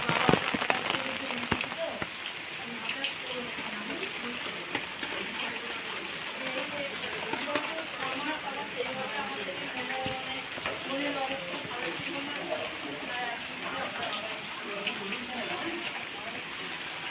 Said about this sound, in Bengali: অনেক দিন পর বৃষ্টিতে ভিজছি